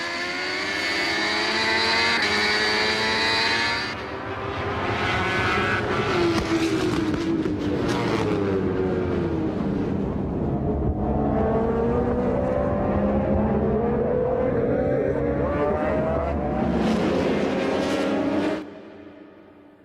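Kawasaki Ninja ZX-RR MotoGP race bike screaming past at high revs, with the engine pitch sweeping up and down through gear changes as other racing machines roar nearby, loud and continuous before cutting off abruptly at the end.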